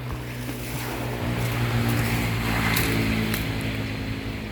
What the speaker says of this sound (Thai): น้องพันเล่นน้ำครับ